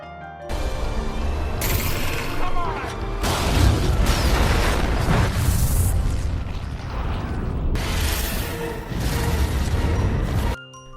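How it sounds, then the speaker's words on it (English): A boat explodes in a long, loud, chaotic stretch of blasts, crashes and grinding debris, swelling and breaking in bursts before cutting off abruptly. "Jake detonated the boat, killing dozens of piranhas in one massive explosion"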